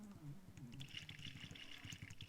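Water being drunk in the video game Exile: Escape from the Pit: a short burst of soft, bubbling liquid sounds with gentle pouring and trickling, faint and close.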